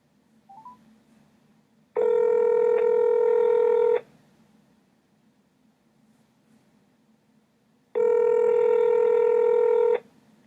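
A phone call going out, with two long, loud electronic ringback tones of about two seconds each separated by several seconds of quiet room hiss, plus a brief faint rustle at the start.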